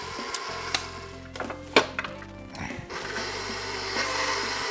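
A stand mixer on low churns butter and granulated sugar for molasses cookies, a steady motor hum with irregular clunks and scraping knocks as the paddle works through the thick mixture.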